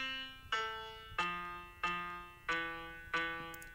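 Solo piano plays the lower part of the folk song "Coffee", five evenly spaced struck notes that each ring out and fade, close and clear with no voices.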